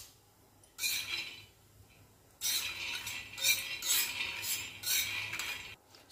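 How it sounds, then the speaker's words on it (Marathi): Half a bowl of peanuts dry-roasting on a tawa over a gas flame, with bursts of dense crackling and scraping that come and go, fairly close, with quiet gaps between them. "शेंगदाणे असे तडतड करायला लागले ना"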